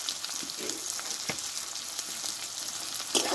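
Turmeric, cumin powder and salt fry with melted tomato in a pan for a cauliflower dish. The sizzle is soft and even, with a few faint scrapes of stirring and one brief knock near the end, and there is no speech.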